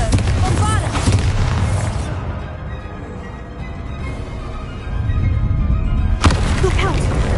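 Booming spell explosions from Confringo and Bombarda in a Hogwarts wizarding video game, dense rumbling blasts that fill the scene loudly, easing off midway before a fresh burst surges back near the end, with game voices mixed in.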